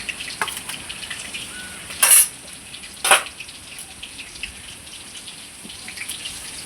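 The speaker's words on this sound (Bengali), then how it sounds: "এইবার আমি আলুটা ভেজে নেব" Potato pieces for catfish curry fry in oil left from frying the fish, a soft steady sizzle with two brief, louder bursts of crackling spatter partway through.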